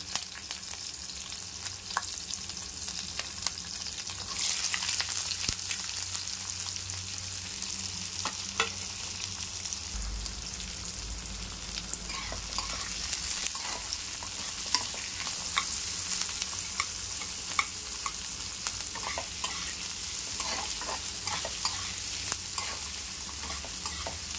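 Whole garlic cloves and green chillies frying in hot oil for egg rice, a steady close sizzle with a spoon stirring and scraping through it, continuous throughout with no talk.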